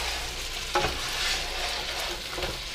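Chicken pieces fry steadily in a pan that has not been used in a while, a constant loud sizzle broken by a brief scrape and clatter as pieces are flipped partway through.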